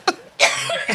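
A single short cough sounds close, followed by a louder, rougher cough with a breathy, throaty tail.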